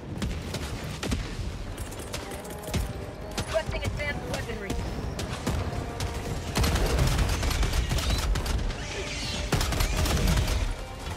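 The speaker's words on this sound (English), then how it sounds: "You brought a Gatling gun?" Rapid Gatling gun fire in the Helldivers 2 game, with dense sustained bursts, impacts and crashing chaos running throughout, mixed under voices talking.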